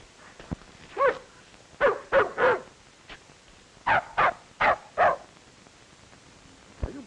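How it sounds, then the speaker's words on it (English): Little dog barks in short bursts, a few sharp yaps in quick clusters separated by brief pauses, close and clear with no talking. "Are you barking at that little dog?"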